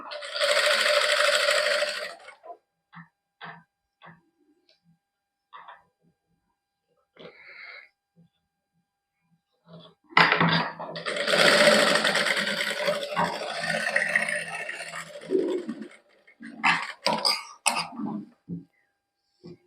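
A sewing machine stitches lace onto a suit neckline in two close, loud bursts of rapid mechanical chatter, one short and one longer, separated by quiet clicks and handling taps.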